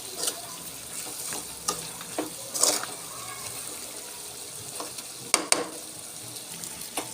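Chicken fry with coriander leaves being stirred in a pan on the stove, giving a steady low sizzle broken by irregular scraping and clinking strokes of the spoon, close and alone without talk.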